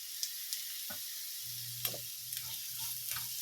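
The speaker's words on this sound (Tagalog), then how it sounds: "Lagay na rin natin yung sibuyas." Sliced onion sizzles in hot oil in a pan while cooking ginataang talong, a faint steady frying crackle with small pops and occasional stirring scrapes, heard alone.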